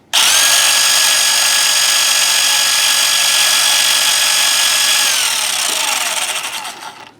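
V3 gearbox and electric motor running steadily with a loud, close whir and a clear high gear whine, holding for several seconds before winding down and coasting to a stop.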